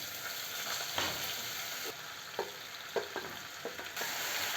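Raw banana pieces fry in a hot pan with turmeric and salt over a low flame, giving a steady close sizzle broken by a few sharp clicks and scrapes as the pieces are stirred.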